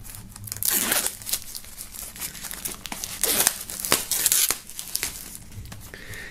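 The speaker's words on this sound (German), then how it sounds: "So, auch hier machen wir mal die Folie ab." Plastic shrink-wrap film being peeled and torn off an album box set, producing loud crinkling and crackling bursts with sharp tearing rips at irregular intervals, close up.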